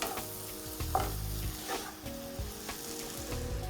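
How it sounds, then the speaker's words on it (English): Basil leaves are stirred into a sizzling pan mixture for mushroom fried rice. A steady frying hiss runs throughout, broken by a few scraping, clattering strokes of the spoon. "6 to 7 basil leaves. Just stir them in. Give all of this a mix."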